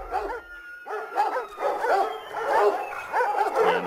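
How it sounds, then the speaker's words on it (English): Dogs bark repeatedly in the video game Observer, a close, steady run of yaps and woofs with a few whimpering notes mixed in, and no voices over them. "dogs barking"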